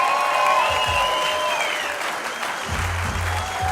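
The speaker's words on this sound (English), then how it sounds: "Huge round of applause for the front row" A comedy club audience claps in a dense burst of applause with a few whoops and cheers, the clapping swelling early and then easing off.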